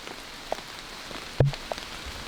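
Rain falling in a lush backyard, a soft steady patter with a few isolated drop impacts and one louder nearby thud, heard alone without talk.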